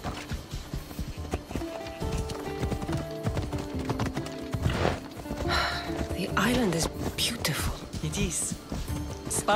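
A horse's hooves clip-clop at a steady ride in Assassin's Creed Odyssey, close and rhythmic, while characters talk over them and the occasional snort or neigh cuts in.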